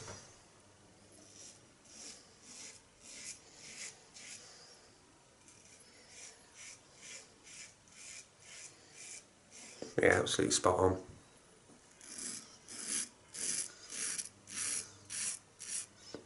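An R41 safety razor with an Astra Superior stainless blade shaves through lather, making a rhythmic series of soft scraping strokes, one burst louder and longer, with someone speaking briefly between strokes.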